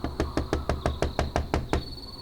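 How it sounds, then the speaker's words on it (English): Nine evenly spaced knocks rap on a house door in a steady rhythm, close and distinct, with a faint tone ringing on behind them and quiet once the knocking ends. "Joseph knocked on the door."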